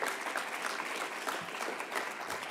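Audience applause at a climate finance conference as a speaker comes on stage, a steady, even wash of clapping from a seated crowd, moderately quiet and continuous throughout.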